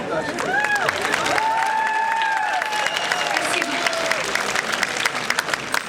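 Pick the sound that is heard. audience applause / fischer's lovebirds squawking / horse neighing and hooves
audience applause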